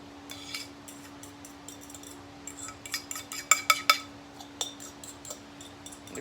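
A utensil stirs an onion bake mixture of cream cheese and bacon in a dish, giving soft scraping and a cluster of light clinks against the dish, fairly quiet and intermittent.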